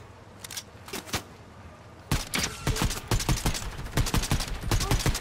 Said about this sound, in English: There's someone shooting at you.